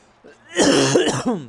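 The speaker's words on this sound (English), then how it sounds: "Sorry for the cough." A single hoarse cough with a throaty clearing from a sports commentator recovering from COVID, loud and close, preceded by a brief soft breath.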